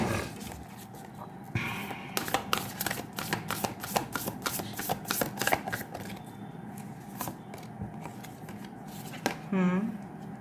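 Tarot cards arranged and shuffled by hand, a steady run of close, crisp flicks and riffles with quiet pauses, while someone talks over them and a short tonal sound appears near the end.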